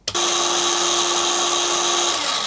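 A Makita cordless drill runs at about 1290 RPM on a freshly charged 2Ah battery, a steady close whine starting abruptly and holding at an even pitch for two seconds with no talk.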